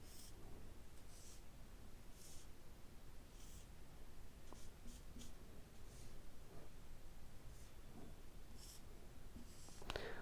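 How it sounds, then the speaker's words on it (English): A pen scratches faintly across paper while a chemical structure is drawn out, with short strokes scattered over a steady background hiss. "let me write the structure again"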